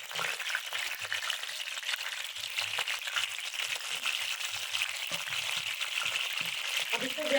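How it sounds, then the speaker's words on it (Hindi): Marinated chicken pakora pieces frying in hot ghee, a steady bright sizzle that carries on the whole time, with soft low knocks of handling underneath. "इसको ऐसे ही घी में डालते जाएंगे, फ्राई करते जाएंगे।"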